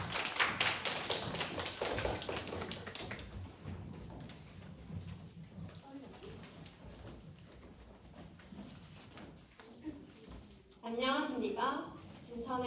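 Audience applause at a tourism-site revival competition fades out over a few seconds. A voice then speaks alone, and a few light taps follow.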